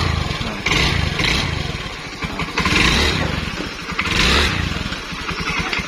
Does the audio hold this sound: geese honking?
no